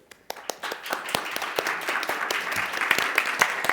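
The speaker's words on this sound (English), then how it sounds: "please give a big round of applause to the panel that stayed so late" Audience applause for a conference panel at the Asan Plenum, starting with a few scattered claps and quickly swelling into steady, moderately loud clapping from a sizable crowd that holds through to the end.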